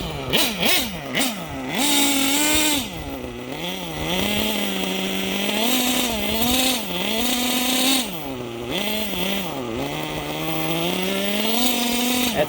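A Gimar P5 small gas engine in a Hyper 7 RC buggy, freshly broken in, revs under repeated throttle blips, its buzzing whine rising and falling in pitch over a steady idle, close and loud.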